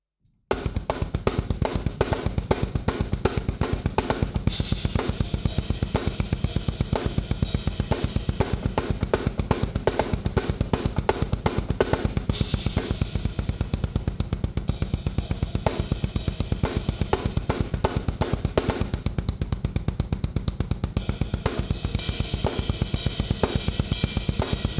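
A drum kit groove driven by a nonstop 16th-note double kick pattern, dense and even, with cymbals and snare riding over the rapid bass drum pulses, loud and close for the whole stretch.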